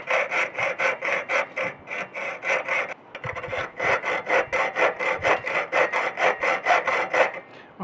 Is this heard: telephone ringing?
no